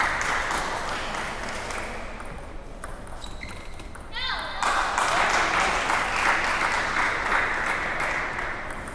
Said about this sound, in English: it seems to me that a lot of the people in the crowd here are cheering for Ishijuma here